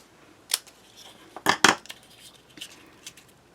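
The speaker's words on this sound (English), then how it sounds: "I'm gonna go ahead and trim that off with my scissors" Scissors trimming excess paper off a handmade medallion card, a few quick crisp snips up close, with soft handling rustles between them.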